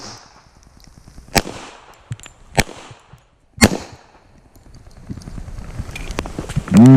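A 1911 pistol firing jacketed hollow point rounds outdoors, with four sharp, loud separate shots at irregular intervals and softer handling noise between them.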